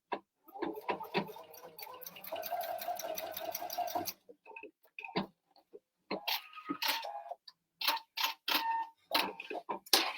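A sewing machine stitches a hem on a sewing project in fast rattling bursts, running for several seconds, then pausing, then starting again in shorter runs, close and clear with no talk.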